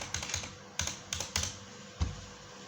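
Keys tapped on a computer keyboard in short irregular bursts, with a few clusters of quick strokes and a single firmer key press near the end, close and clear with no talking.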